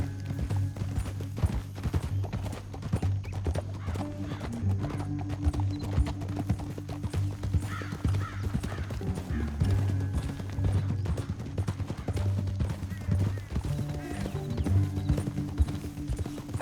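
Horses in Red Dead Redemption 2 gallop with rapid, rhythmic hoof clip-clops over a low rumbling bed, steady and close for the full length, with no talk.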